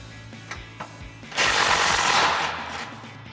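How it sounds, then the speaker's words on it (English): A wrench works the top mounting nut off a front shock on a Ford F-250 Super Duty during a Roush lift kit install: a few sharp clicks, then a loud, dense mechanical burst lasting about a second, close by. "Now we'll get our top mounting nut off."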